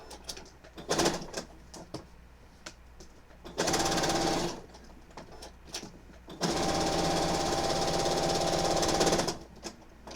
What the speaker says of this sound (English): And then I'm going to finish sewing it.